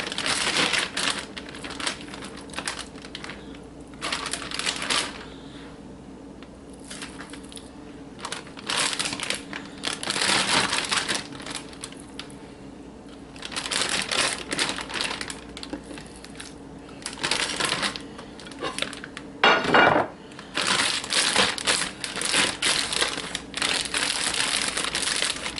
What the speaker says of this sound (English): the next step is I'm gonna add these to my ziploc baggie